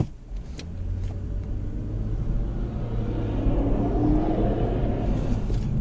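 A Toyota Celsior on 19-inch Bridgestone Regno GR-XII tyres pulls away from a traffic light, its quiet engine and road rumble building steadily from inside the cabin with no talk.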